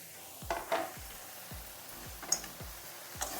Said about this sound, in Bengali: আলু দিয়ে আর একটু নাড়াচাড়া করে নিচ্ছি